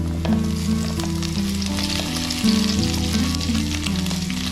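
Ginger, garlic and green chili fry in hot oil as capsicum goes in, giving a loud close sizzle with stirring and scraping clatter throughout.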